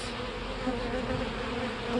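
Honey bees swarm and buzz around an old hive pallet, a dense, steady drone of many wings close by, with individual bees whining past in brief higher tones.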